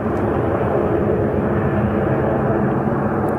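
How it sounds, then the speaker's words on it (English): A loud, steady broadband roar of an airplane flying overhead fills the whole stretch without pause, with no talking. "Is that a plane?"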